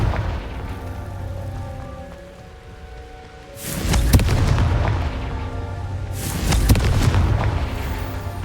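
In Hogwarts Legacy, a Confringo spell blast lands as a deep booming explosion, followed by a second heavy burst a few seconds later over a steady rumbling game background.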